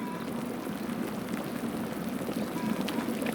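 Water fizzes and bubbles continuously, a dense crackling hiss like a vigorous boil, steady and close throughout.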